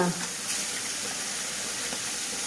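Puti fish (pool barb) frying in a pan, a continuous broadband hiss and sizzle of hot oil at steady loudness throughout the short stretch.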